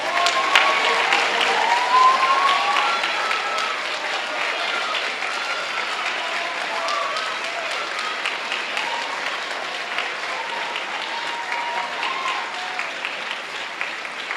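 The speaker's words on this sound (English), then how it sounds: "Give them a round of applause." An audience at a spring orchestra concert gives a long, full round of applause for the standing seniors, dense steady clapping that fills the hall throughout.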